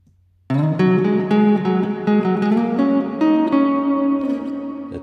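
Time-stretched audio region played back in Logic Pro X: a tonal musical passage with sustained harmonic notes and a few pitch changes starts abruptly after a brief silence, then continues steadily at even volume.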